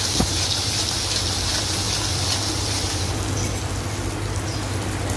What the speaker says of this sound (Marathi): आता आपण यात थोडंसं पाणी घालणार आहोत